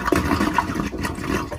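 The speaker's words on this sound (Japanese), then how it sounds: "一回こう全部流れ切った後に、ボコボコボコってなんか空気と一緒に戻ってくる感じは、これ、 排水管が詰まってますよっていうサインらしいんですよ" A clogged drain pipe gurgles after a toilet flush in a renovated property: a close, continuous rush of draining water broken by bubbling pops as air pushes back up the pipe.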